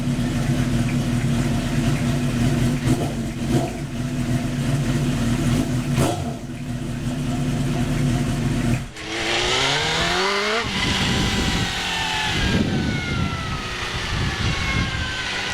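A car engine idles with a steady rumble, then revs hard several times, the exhaust roaring up and down in pitch close by.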